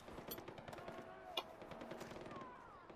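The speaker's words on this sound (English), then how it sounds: "Okay, there's some shooting." In the video game Far Cry 4, rapid gunfire rattles as fast, repeated cracks, fairly faint and layered over game ambience, with one sharper shot standing out.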